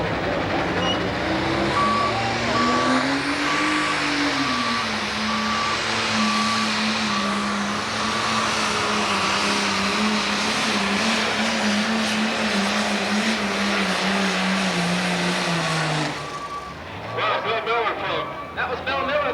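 Bill Miller's 10,000 lb Pro Stock pulling tractor, the Cruising Mule, roars loudly on a long run at Evansville, engine pitch climbing then holding steady before abruptly cutting off, followed by sputtering and crowd noise.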